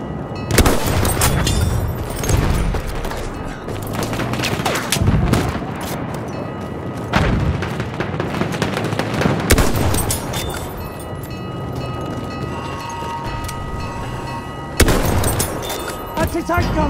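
Dense Battlefield 1 beta combat: continuous booming artillery barrage and rolling gunfire, loud and near, with heavy blasts around one, seven, ten and fifteen seconds over a constant roar of battle.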